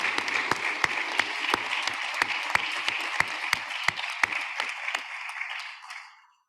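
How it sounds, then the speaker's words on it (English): A warm round of audience applause for panelists at a conference side event on women farmers, with a few sharp distinct claps standing out, before the clapping fades quickly to silence. "a very warm round of applause for all our panelists"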